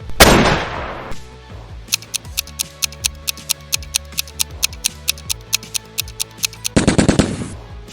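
Rapid gunfire from a .300 Win Mag rifle on a range, a long run of sharp, evenly spaced cracks, loud and close, bracketed by heavier bursts at the start and end.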